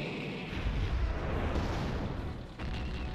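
Artillery cannon fire at a tank in the video game White November: a heavy rumbling blast with a sustained roar and a second burst near the end, loud and close, with no talk over it.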